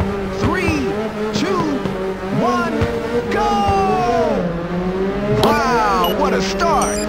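Race cars in a PSP racing video game rev and launch off the start, engines whining and climbing through gear changes with tyre squeals, under a game announcer's voice.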